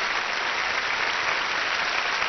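Audience applause for a live French song performance on a television variety show, a steady, dense wash of clapping that continues evenly without talk.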